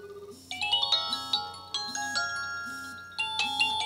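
An incoming call sets off a mobile phone ringtone, a bright chiming melody of repeated bell-like notes that plays loud and clear, with no voices over it.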